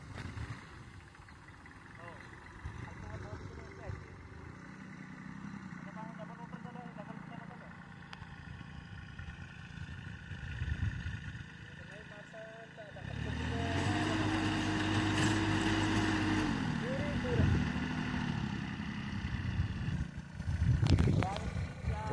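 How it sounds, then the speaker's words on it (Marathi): A tractor engine running in a farm field, a low, steady mechanical rumble that swells louder and rougher about halfway through, then holds near and continuous. "ट्रॅक्टर चालूच आहे."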